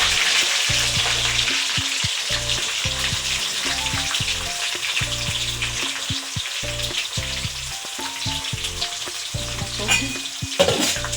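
Onions sizzling and frying in hot oil for a South Indian fish curry, with steady loud crackle throughout and repeated scraping stirs of a spoon in the pan, no talking.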